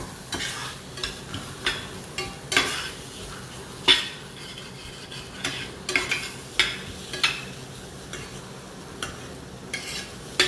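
Layered onions warming gently in a pan, with a soft low sizzle broken by repeated scraping stirs and light clinks of a utensil against the pan, close and steady, with no speech.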